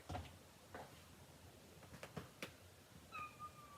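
A cat meows a few times indoors, short soft cries scattered among quiet rustles and small knocks, then a higher drawn-out call near the end.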